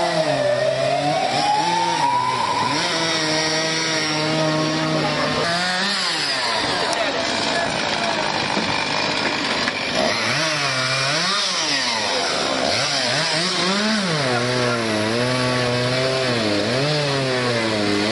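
Up close, a chainsaw revs and bogs repeatedly while cutting during a firefighters' simulation exercise, the engine pitch rising and falling in uneven surges, with voices faint in the background.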